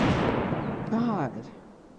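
Gunfire booms in the game Squirrel Stapler as a quick, loud burst at the start. A voice exclaims over it before the sound fades into a quieter tail.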